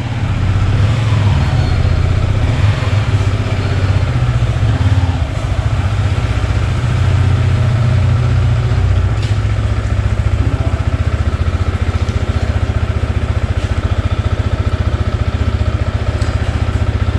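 A Yamaha R15 V4 sport motorcycle engine idles steadily and loudly up close, a constant low rumble with no speech throughout.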